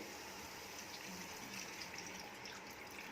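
Water, one and a half cups, poured into a pan of toasted poppy seeds for aloo posto, a soft continuous gushing pour that stays faint and even throughout.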